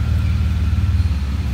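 Loud Dodge car with aftermarket wheels passing close by as a steady low engine rumble that fills the whole moment, with no talk over it.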